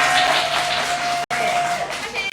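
Audience clapping at a business presentation in Mokpo, a broad burst of applause in a hall, loud and sustained with a brief cut partway, while a presenter's voice carries over it.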